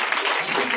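Congregation applauding in a church service, a brief burst of dense, steady clapping from many hands, loud and close.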